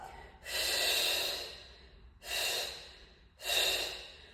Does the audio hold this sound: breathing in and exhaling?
yes